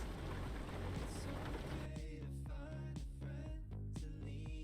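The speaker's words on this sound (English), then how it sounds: "Our guy's gonna sleep with the nice sound of the rain hitting the roof." Rain drums on a truck cab roof in Euro Truck Simulator 2, a dense, continuous patter that runs steadily throughout, with tonal background sound layered under it and no talking.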